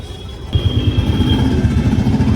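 A motorcycle engine runs steadily with a low, pulsing throb as a couple rides up to a petrol station at Khyber Pass, a high whine joining after a brief quieter start, no talk.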